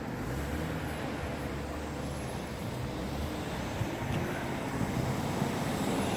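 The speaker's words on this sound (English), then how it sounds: "But still got the noise of the traffic, but not quite so noisy as the trimmers." Steady road traffic drones from a distance: a low, continuous broadband rumble with wind buffeting the microphone, faint and unbroken, with no voices.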